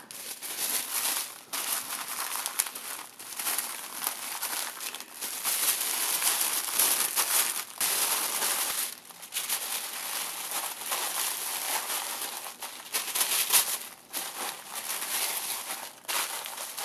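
Paper crinkling and rustling while it is wrapped around a note for a handmade heart waterfall album, steady crisp crackles with brief pauses, fairly close and alone.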